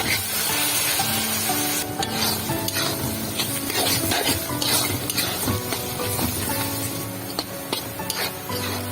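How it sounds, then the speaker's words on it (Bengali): Onions sizzle and fry with salt in a pan for Bengali hilsa fish jhuri, a steady loud crackle throughout with stirring scrapes and occasional utensil clinks, no talking. "পেঁয়াজগুলো ভাজা হয়ে গেছে"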